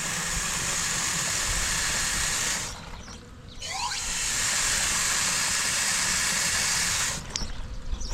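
A sprayer being tested with water gives a steady hissing spray that runs almost continuously, stopping briefly twice before resuming, close and fairly loud.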